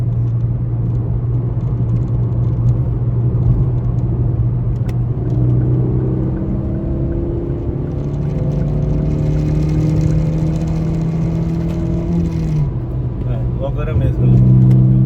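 A car engine accelerates in third gear, its rising hum droning steadily from inside the cabin. It then shifts into fourth, and the pitch drops before it pulls again.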